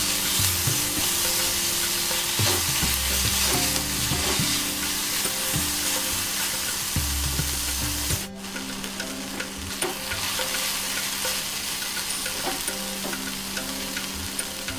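Ginger puree and curry base fry and get stirred in a pan for a Spam balti, with a continuous loud sizzle and scraping over music. The sizzle briefly dips partway through, then carries on.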